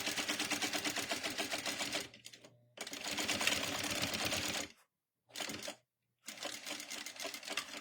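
A sewing machine stitches bag tabs back and forth in fast, steady runs of rapid mechanical clatter, stopping briefly between bursts before starting again, close and alone.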